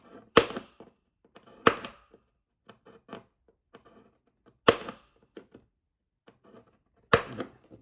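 Sharp metal-on-wood hammer strikes knocking a punch into wood ring out in irregular bursts, four loud blows with lighter taps between, close and without any talking.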